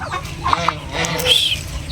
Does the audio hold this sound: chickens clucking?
yes